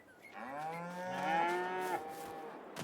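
Several cattle moo in a farm simulator game, long drawn-out lowing calls overlapping one another, fairly close and steady for a few seconds with no talk over them.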